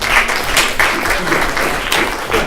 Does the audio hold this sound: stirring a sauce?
no